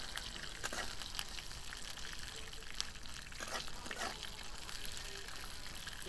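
Sugar and cashews fry in oil for an Odisha rava cake (poda pitha), giving a soft, continuous sizzle and crackle that stays faint and even throughout.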